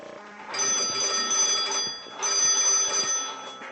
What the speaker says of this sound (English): This is a Northern Electric 2-box phone made in the late 1890s.